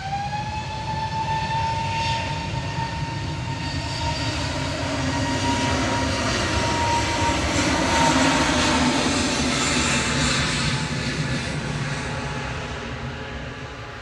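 A Turkish Airlines Airbus A321neo arriving from Istanbul touches down at Manchester Airport, a loud, steady jet roar with whining engine tones that swells toward the middle and eases off as the aircraft rolls out, with no voices.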